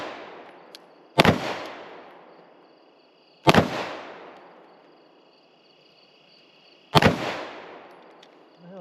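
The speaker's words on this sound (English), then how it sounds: "Shoot one more." Three loud gunshots ring out at a shooting range, evenly spaced a couple of seconds apart, each a sharp close crack followed by a long decaying echo.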